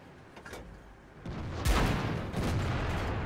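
A tank shell slams into an IS-3 heavy tank in World of Tanks, landing as a sudden heavy boom with a rumbling, echoing tail that follows softer thuds, all moderately loud with no talk.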